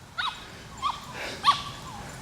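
A small dog lets out a few high, squeaky yips and whimpers at a distance, spaced out and fairly faint.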